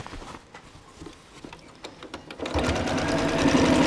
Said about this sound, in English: this top stitching you're going to do around the whole outside